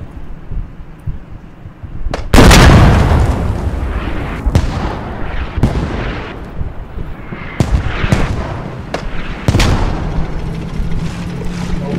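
Armored combat in Squad sees Abrams tanks struck by explosions. One heavy blast lands close after about two seconds, followed by a run of sharp booms and impacts spaced across the remainder, loud over steady engine rumble.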